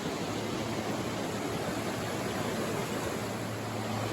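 Strong river water rushes in a steady, dense broadband roar, constant and unbroken throughout, with no voices or other sounds.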